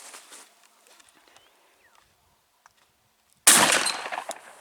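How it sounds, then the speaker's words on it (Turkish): A shotgun fires a 34 gram number 3 shell at a pattern target outdoors, one sharp loud blast with a ringing tail after a few seconds of quiet, faint rustling. "Atışımızı yaptık."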